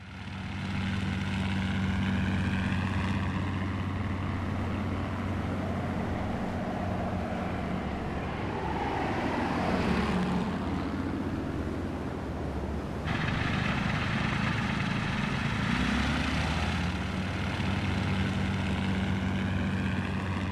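Propeller aircraft engine droning steadily throughout, a continuous hum whose pitch rises and falls as the plane passes, moderately loud, no voices, linked to the era of the Sopwith Pup biplane fighter.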